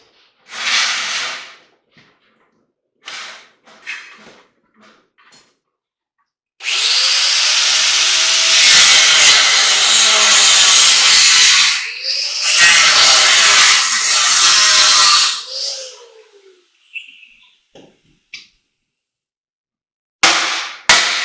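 A power tool cutting through a rivet on an aluminum ladder, loud close grinding bursts, one long sustained cut followed by a second, with brief scraping and clattering handling sounds between them.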